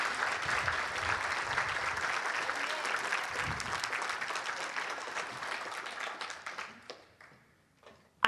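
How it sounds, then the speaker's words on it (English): A church congregation at Bon Air Baptist Church claps in sustained applause that fills the room, then thins out and fades to near silence near the end. "can we just give God a round of applause"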